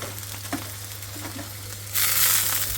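Onion with shrimp and vegetables frying in a pan, a soft steady hiss with faint utensil taps over a low hum, swelling into a louder, brighter sizzle near the end.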